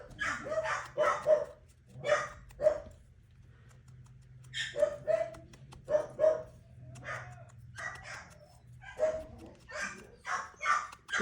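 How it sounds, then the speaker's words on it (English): Several dogs bark indoors at an arriving delivery, with loud, repeated barks coming in irregular clusters and short pauses between them. "Again, sorry about the barking."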